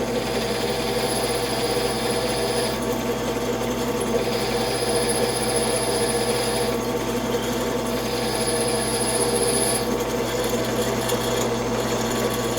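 A cobalt drill bit bores into metal, with cutting paste applied, making a steady, loud mechanical whine and grinding that runs without a break, while a high-pitched squeal cuts in and out above it.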